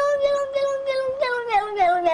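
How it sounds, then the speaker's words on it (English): A cat meows repeatedly in a short run of close, nasal cries that bend in pitch, some sounding almost like a spoken 'no'. "That cat said no a lot in that viral video."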